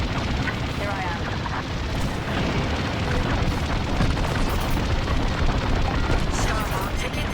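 Starhawk under attack in a Star Wars Squadrons space battle, with sustained loud blasts, roaring booms and rapid weapon fire forming a dense, unbroken wall of combat noise.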